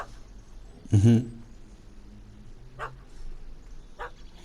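A single loud dog bark rings out in The Witcher 3, followed by a couple of fainter yips or whimpers over a low game ambience.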